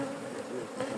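Honey bees fly around a hive, their steady, continuous buzzing close and loud, with a dense drone that stays even throughout and has no voices over it.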